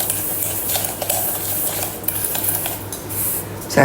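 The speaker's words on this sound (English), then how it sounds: "Then it says mix with a spoon." A spoon works through sourdough discard raisin bread dough in a mixing bowl, with scraping stirs and light clinks against the bowl, fairly close, with a sharper knock at the end.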